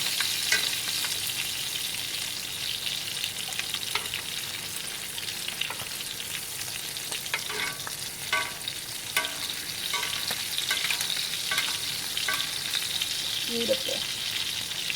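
Steak pan-searing on its sides with thyme and rosemary: a loud, continuous sizzle with occasional scraping and clicking as the meat is turned, and no talking.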